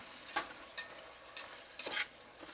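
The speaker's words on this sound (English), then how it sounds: "I'm mixing everything together and cooking in here on low" Thin-sliced cheesesteak meat stirred and fried in a pan on low heat, a quiet sizzle broken by about five sharp scraping strokes of the spatula at irregular intervals, with no talking.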